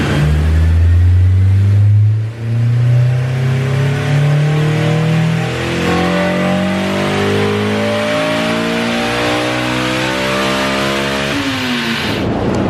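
A Honda S2000 fitted with a cheap header revs hard on a dyno, with a loud, close engine note rising steadily through the gears for several seconds and then cutting off.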